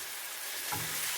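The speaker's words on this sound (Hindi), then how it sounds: "इसमें ये टमाटर आप डालकर एक दफ़ा उला देंगे इसको" Tomatoes tipped into a pan of frying onions for a Pakistani-style butter chicken and stirred, with a steady close sizzle that swells as the stirring picks up near the end.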